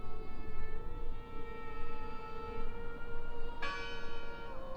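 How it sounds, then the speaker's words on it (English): A bell tolls steadily in the Draugen mystery game, its rich ringing overtones sustained over a low wind-like rumble, with a fresh, brighter strike sounding near the end. "I heard the bell."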